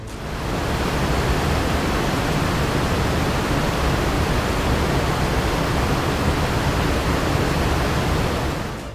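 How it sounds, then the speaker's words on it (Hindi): Floodwater rushes through a deserted, flooded village during an exceptionally high flash flood on the Ravi River near Balloki headworks: a loud, steady, broadband roar that holds without pause, with no voices. "पूरा गाँव सुनसान है और सिर्फ पानी की आवाज़ है।"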